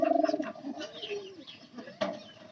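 A pigeon coos close by in a dovecote, a rhythmic throaty burst at the start followed by softer cooing phrases and another clear coo near the end.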